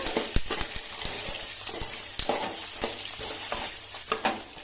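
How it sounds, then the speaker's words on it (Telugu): Tomatoes frying in a pan after peanuts and green chillies, with a continuous sizzle broken by sharp spatula scrapes and clinks as they are stirred. "టమాటాలు ఫ్రై చేసుకున్నాము"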